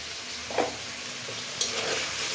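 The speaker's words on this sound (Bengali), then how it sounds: "এবার এগুলো ভালো করে নাড়াচাড়া করে মিশিয়ে দেওয়া হচ্ছে যাতে সবগুলো পরিমাণ মতো মিশে যাবে একসাথে" Pigeon meat seasoned with salt and turmeric is stirred in a frying pan, giving a steady close sizzle with a couple of brief scraping strokes and no voices.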